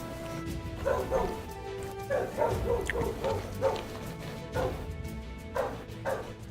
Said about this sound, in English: Oh my goodness, why is the dog barking so much?